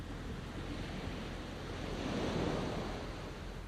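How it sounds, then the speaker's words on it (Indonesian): Ocean surf washes steadily onto a beach, a continuous broadband rush that swells slightly toward the middle, with some wind noise and no voices. "Lihat ombak di sana. Tidak bosan-bosan menepis pantai sepanjang zaman."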